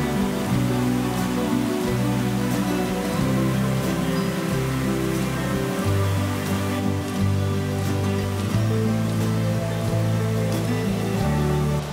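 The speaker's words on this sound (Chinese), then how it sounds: "现在开始在飘雨喽" Light rain falls steadily on a forest trail in a Keelung canyon with streams and waterfalls, an even, continuous patter that fills the air with no voices.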